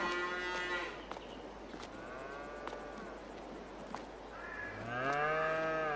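Several cows in a 60-head herd in Farming Simulator 22 moo one after another, long drawn-out calls overlapping at moderate distance against a quiet farm background.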